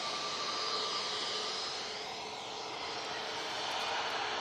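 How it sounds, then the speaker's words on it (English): An Easyjet Airbus A320neo departs Manchester Airport with a continuous jet roar and a faint shifting whine, loud and steady, with no voices. "we're going to have this Easyjet go out"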